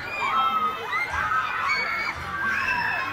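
Children on a school field trip shout and shriek together in a lively crowd, with overlapping high-pitched calls rising and falling continuously and close by.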